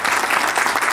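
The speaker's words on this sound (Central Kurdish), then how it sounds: "بە چەپڵەکانتان پێشواسی لێ دەکەین" Steady audience applause at a student awards ceremony, welcoming a student called up to receive a prize; dense, continuous clapping close by for the full second with no voices.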